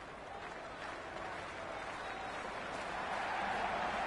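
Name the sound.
cricket stadium crowd cheering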